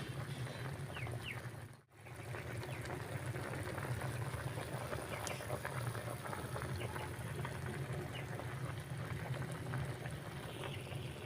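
Mussel soup with chili leaves bubbles steadily in a pot, a constant close simmering hiss with a brief dip in the middle.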